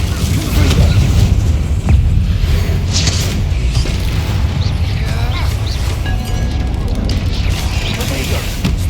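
Bombarda and Confringo spell explosions in Hogwarts Legacy, loud booming blasts and crashes over a dense, continuous wash of game noise, with a voice calling out spell names.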